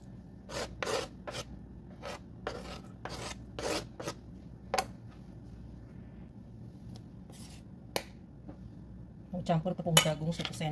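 Quiet rhythmic rasping strokes of vegetables, including garlic, being grated for lentil fritters, irregular bursts with pauses, ending with some clinks of utensils.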